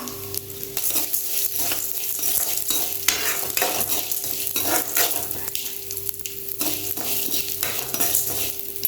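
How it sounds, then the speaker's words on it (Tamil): Black urad dal and chana dal roast in a pan for a curry leaf podi, giving a steady dry crackling sizzle with repeated scraping and stirring clinks of a spoon throughout, close and continuous. "இப்போ உளுந்தம்பருப்பு கடலைப்பருப்பு இந்த ரெண்டையும் வந்து கொஞ்சம் பொன்னிறமாக வர்ற வரைக்கும் நல்லா வறுத்து எடுத்துக்கலாம்."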